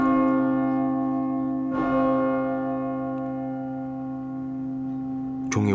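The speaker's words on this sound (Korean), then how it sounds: "종이 울리기 시작했다" A church bell tolls at 6 o'clock to open a 1987 Korean pro-democracy rally, one strike sounding at about two seconds and a long, ringing hum sustained throughout, with a second strike landing just at the end.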